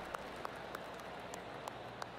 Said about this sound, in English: I heard one person clapping.